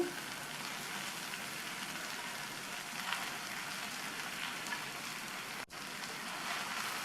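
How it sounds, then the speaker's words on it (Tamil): Thandu keerai, amaranth stem greens, sauté in oil in a pan with a soft, steady sizzle that stays quiet throughout, broken only by a brief dip. "இந்த கீரையையும் எண்ணெயிலேயே மறுபடியும் 1 நிமிஷத்துக்கு வதக்கிக்கணும்"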